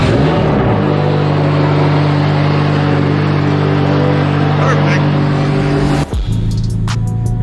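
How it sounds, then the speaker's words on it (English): A supercar engine fires up from cold and revs, a loud, steady, close-up drone with strong low harmonics that holds for several seconds before a sudden sharp shift near the end. "Cold start, let's go."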